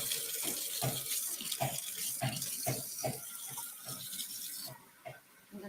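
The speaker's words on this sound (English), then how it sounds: "turn on the faucet." A kitchen faucet runs steadily into a sink, a constant rushing hiss with small splashy pulses before the flow is cut off near the end.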